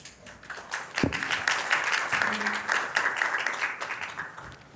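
An audience at a conference session on North Korean enforced disappearance and sanctions claps for three speakers, a moderately loud and steady round of applause with a few sharper claps, lasting several seconds before it tapers off.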